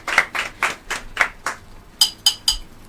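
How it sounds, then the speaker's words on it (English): A short run of sharp, separate handclaps at a girls' secondary school oratory competition, about six evenly spaced claps followed by a pause and three brighter, closer claps, loud and isolated with no talk. "A sounding round of applause for her."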